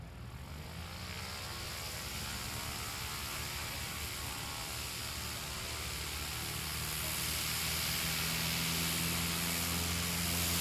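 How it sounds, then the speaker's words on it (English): A 1978 light propeller aircraft takes off at a STOL competition, its engine droning steadily and growing louder toward the end, heard from the field with open-air background noise. "Fantastic takeoff from John McArdle."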